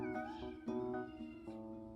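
A resident house cat meows repeatedly indoors, several drawn-out, tonal cries close by with short gaps between them and no talking.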